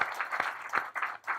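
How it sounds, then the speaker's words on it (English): Audience applause for the speakers at a panel event, a brief, fairly faint round of clapping in uneven bursts that rises and dips over a second and a half. "Let's give a round of applause to our speakers."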